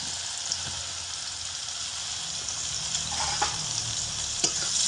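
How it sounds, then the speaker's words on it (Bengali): Soaked soybean chunks frying in hot oil, a continuous crackling sizzle with a few sharper pops and stirring clatters toward the end, close and alone. "একই তেলের মধ্যে জল থেকে ছেঁকে তুলে রাখা সয়াবিনগুলোকেও দিয়ে ভেজে নেব"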